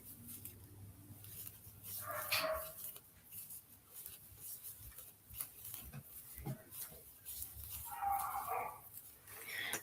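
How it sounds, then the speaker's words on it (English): A dog barks and whimpers somewhat far off, a few thin whines and yelps rising and falling over faint background hum, with no one talking. "That dog doesn't sound good"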